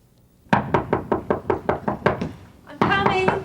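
A door is knocked on repeatedly, about a dozen loud, evenly spaced raps close to the microphone, followed by a voice speaking at the end.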